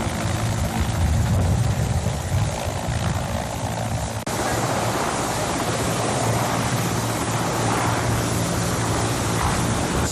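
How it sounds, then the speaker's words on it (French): Military helicopters positioning on an air force runway during independence day preparations, their engines and rotors producing a loud, steady drone that holds throughout with a low, throbbing rumble and no speech. "Sur la piste d'atterrissage, les hélicoptères se positionnent."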